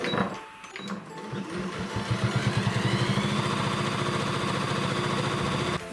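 Sewing machine stitching a reinforced box-and-X pattern on a satchel bag strap, a steady, fast mechanical chatter after a few starting thumps, loud and close with no talking.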